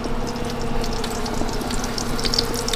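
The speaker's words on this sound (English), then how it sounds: "There's my running water." Water runs steadily from a camp water tank, a constant hissing splash with faint clinks, continuous and fairly close.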